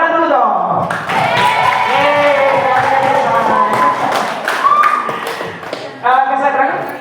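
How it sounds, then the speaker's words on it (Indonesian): Audience applause at a talk on public speaking and organizations, loud dense clapping with sharp taps and thumps close by, sustained across the clip with a rise near the end. "Tepuk tangan dulu dong."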